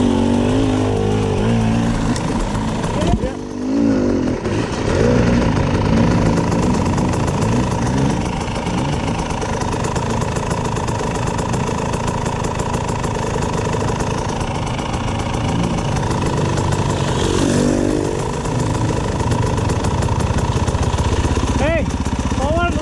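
An off-road motorcycle engine runs steadily on a trail ride, a loud, close mid-pitched drone with slight revving changes throughout, while voices talk over it.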